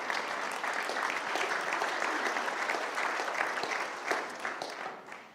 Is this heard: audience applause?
yes